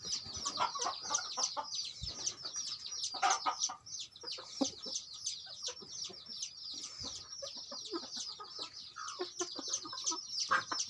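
Chickens from fighting-cock breeding stock cluck and chatter repeatedly in a yard, a busy stream of short calls with no talk.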